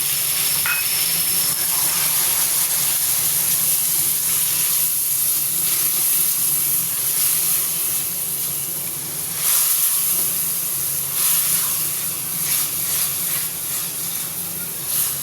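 Chopped tomatoes hiss and sizzle steadily in a hot pan with garlic and ginger, a loud continuous frying noise with occasional stirring bursts and no voices.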